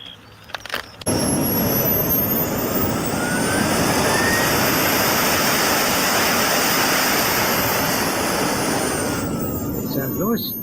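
A radio-controlled turbine jet Buckeye model plane roars steadily with a loud, broad whine and rush at a flight line after a brief quieter start, with a rising whistle running through it.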